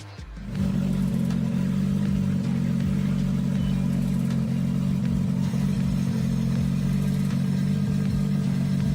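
A drift car engine revs hard at high RPM at a Malaysian drift event, holding a loud, steady buzzing note with a mild misfire at the top of the range and no voices.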